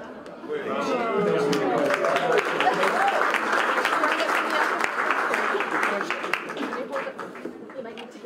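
A room full of people claps steadily, sustained applause rising quickly and carrying on for several seconds before easing slightly.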